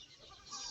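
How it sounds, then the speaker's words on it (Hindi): Birds calling in the morning, a busy mix of chirps and clucks with a rooster-like call, moderately close and steady, no talking. "परिंदों की जो है बोलियां हैं।"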